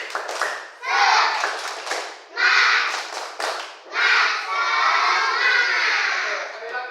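Schoolchildren in a classroom doing a rhythmic spirit clapping chant, bursts of many hands clapping in patterned beats mixed with children's voices, loud and close.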